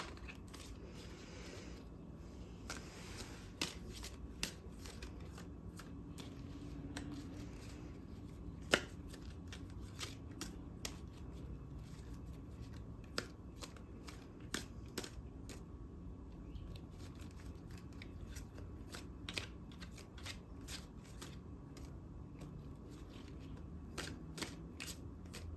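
Tarot cards being shuffled by hand, a long run of crisp flicks and soft slaps in an uneven rhythm, close and quiet with no talking.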